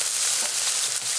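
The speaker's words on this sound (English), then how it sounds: "After stir frying the pork for about a minute" Steady, dense sizzling of pork stir-frying in a hot pan for mapo tofu, a continuous bright crackle with no talking.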